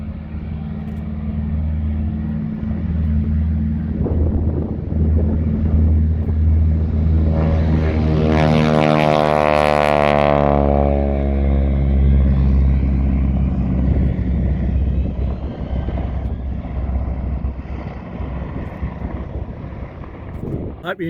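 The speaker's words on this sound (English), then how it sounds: "You'll really be able to hear this radial engine as he takes off. It's loud, screams." A radial-engine propeller airplane takes off, its engine rumbling and then swelling into a loud, rising roar as it passes close by, then fading away, with wind buffeting the microphone.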